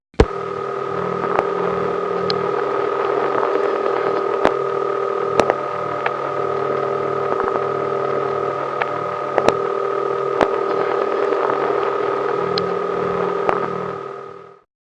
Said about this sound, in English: entertained just by picking up a prepay phone and not doing anything at all